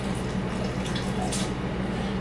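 Liquid nutrient additive poured into a container of water for a grow setup, a soft continuous trickling and splashing with a low steady hum beneath, close and moderately loud.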